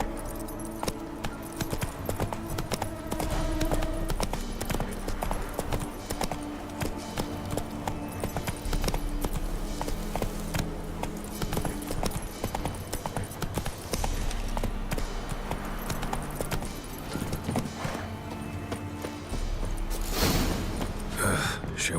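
Roach the horse trots along in The Witcher 3 with steady clip-clopping hooves that run continuously, joined near the end by a brief louder rustle, and no voices over it.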